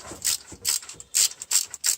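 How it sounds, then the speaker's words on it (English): Ratchet tightening a thermostat housing bolt on a car with a P0128 coolant thermostat fault, heard as a series of quick, close clicking bursts in an uneven rhythm, with no talk. "Just tighten them a little snag."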